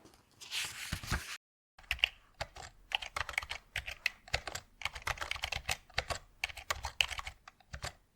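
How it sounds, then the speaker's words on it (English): Computer keyboard being typed on in close-up ASMR style, bursts of crisp clicky keystrokes in irregular runs with a brief pause near the start, quiet and isolated. "let me hear this keyboard sing"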